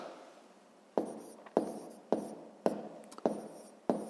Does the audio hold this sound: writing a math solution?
yes